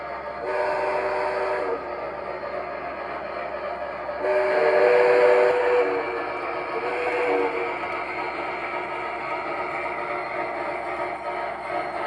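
A Visionline Erie Triplex model steam locomotive blows a loud layered whistle several times over a steady low rumble. The whistle swells, fades and returns across the stretch.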